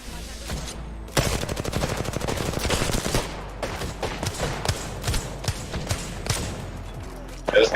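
Rapid bursts of automatic gunfire from Apex Legends, sharp repeated shots in clusters over several seconds, with a player talking underneath.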